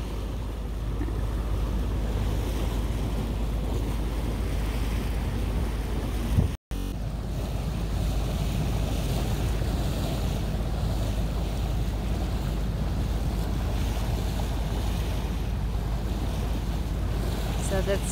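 A boat cruising through open water in the southern glades of Florida, with steady broadband wind and wave wash running throughout, loud and continuous, broken only by a brief dropout.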